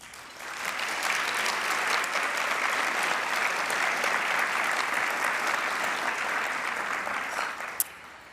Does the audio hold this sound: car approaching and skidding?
no